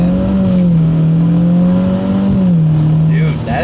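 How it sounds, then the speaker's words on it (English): A Subaru WRX GT's exhaust drones loudly and steadily as the car accelerates, a sustained engine note that dips slightly near the end, with faint talking alongside. "And that exhaust sound, I know you guys may not be able to hear it exactly the way that we're hearing it"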